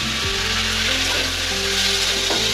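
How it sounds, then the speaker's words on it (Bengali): Sun-dried lentil badi dumplings fry in oil in a pan, giving off a loud, steady, close hiss of sizzling that runs unbroken throughout with no voices. "দেখুন বড়িগুলো একদম ভেতর পর্যন্ত ভাজা হয়ে গেছে।"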